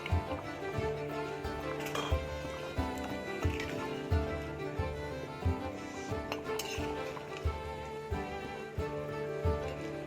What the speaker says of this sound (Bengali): এখন মাছগুলো ঢেলে দেবো মাছগুলো ঢেলেছি ভাজা মাছগুলো